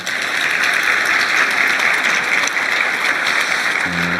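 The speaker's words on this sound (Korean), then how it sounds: "박수 한번 주십시오" A large crowd at a regional high-tech industry briefing with President Lee Jae-myung gives a sustained, loud round of applause, a thick, even roar of many hands that holds steady from start to finish.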